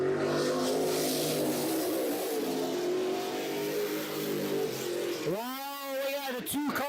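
Late model race cars roaring around an oval track during a Thursday night race, a steady loud engine drone that swells as one car sweeps close by near the end, with a commentator talking over it.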